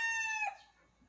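A white Kelso gamefowl rooster lets out the tail end of a crow, a short, clear, close call that breaks off abruptly and leaves near silence.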